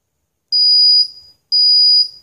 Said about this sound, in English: if it's off, it'll start beeping